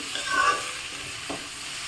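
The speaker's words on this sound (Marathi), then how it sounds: "मी छान मिक्स करून घेते" Capsicum curry being stirred in a pan as it fries, with a soft spoon scrape over a low, steady sizzle and no talk.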